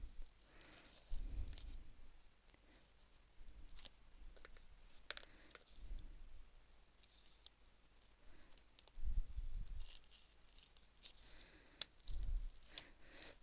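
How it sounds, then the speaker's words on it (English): Paper tears from a pianola spool being upcycled, heard as several brief rough rustling bursts spread through a quiet stretch with scattered small clicks and handling noises, close and fairly soft. "Now I've actually torn that paper,"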